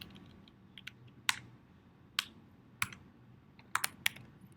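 Typing on a computer keyboard, a sparse run of sharp, close key taps at uneven intervals, with a quick double tap near the end, over a low steady background hum.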